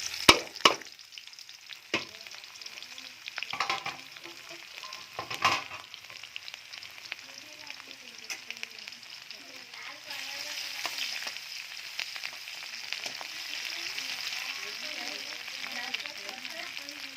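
Garlic fries in oil with cumin in a pan, a faint sizzle under a few sharp utensil knocks early on, building to a steadier, louder hiss in the last several seconds, with soft background murmurs.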